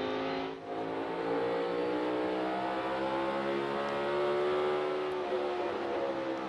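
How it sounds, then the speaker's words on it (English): A NASCAR Cup Series race car engine is heard as the driver eases off the throttle, a sustained high engine drone whose pitch slowly falls and wavers, fairly loud and without talk. "you hear him roll out of the gas to stay out of the rev limiter"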